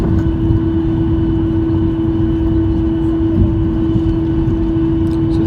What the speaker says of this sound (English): I think we're taxiing around probably like 30 or something miles an hour